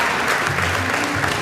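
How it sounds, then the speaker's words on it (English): A round of applause from a crowd at an awards ceremony, a dense, steady wash of clapping with a faint voice beneath it. "Round of applause."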